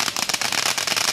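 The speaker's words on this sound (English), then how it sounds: "I'm sure you can hear all the fireworks and the loud booms all around us" Fourth of July fireworks go off all around, a dense, continuous wash of crackling pops and bursts with no clear pauses, loud and close.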